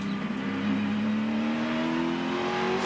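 A touring race car engine revving hard on board during the 1995 Sandown 500 race, loud and sustained with a rising whining drone under a steady roar.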